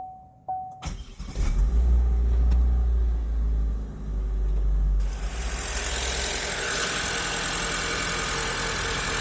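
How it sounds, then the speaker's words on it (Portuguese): Car engine cranked and started while a clamp multimeter measures starting current: a brief starter whir, then the engine catches and settles into a steady close rumbling idle with broadband noise. "Deixa eu dar partida ali no carro."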